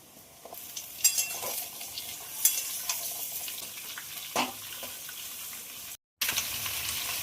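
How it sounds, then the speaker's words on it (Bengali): Chopped vegetables tipped into fried onions in a hot pan for a prawn and vegetable dish, sizzling steadily up close while a utensil scrapes and stirs, with a few louder clatters and a brief dropout near the end. "পেঁয়াজ ভাজা হয়ে গেছে, দিয়ে দেবো কেটে রাখা সব সবজিগুলো।"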